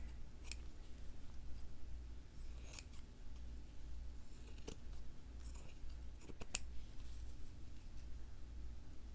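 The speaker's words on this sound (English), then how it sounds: "now I'm just going to trim around that, and I'll be really generous trimming around that" Scissors trimming around a fabric piece for slow stitching with a corset stitch: a few quiet, crisp snips spaced irregularly over a low steady hum, with no voice.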